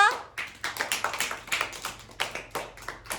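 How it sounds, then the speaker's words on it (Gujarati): A group of young schoolchildren clapping in quick, uneven bursts, close by, with a few brief voices at the start. "ચલો તાળી પાડી દો"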